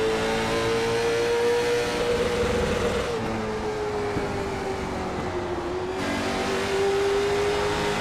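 Race car engines at speed at Myrtle Beach, a sustained loud roar whose pitch sweeps slowly as cars pass through the turns, with no voices.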